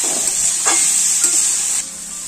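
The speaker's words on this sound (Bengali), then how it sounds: "যতক্ষণ না দেখবে লাল লাল ভাজা হচ্ছে ততক্ষণ এটা ভেজে নেবে।" Bright, hissing sizzle of banana stem frying in a pan, close and fairly loud, with a light stir partway through before it eases.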